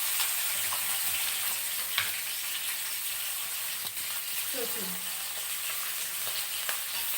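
Chopped onions frying in oil in a pan for a cauliflower curry, a steady close sizzle that holds evenly throughout with occasional small crackles and a brief clink of a utensil.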